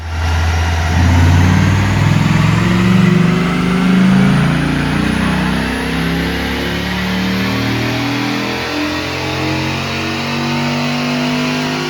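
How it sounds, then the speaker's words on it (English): A stock twenty-year-old second-generation Dodge Viper V10 roars loud and close on a dyno, its deep engine note climbing steadily through the revs in one sustained pull. "I thought it would be interesting to gather some baseline data by dynoing and racing the Viper while it's still stock"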